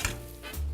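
Steak sizzles in a hot pan in a home kitchen, a short, close hiss with a quick spatter at the start and a swell of sizzling toward the end.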